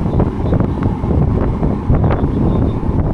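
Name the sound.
strong wind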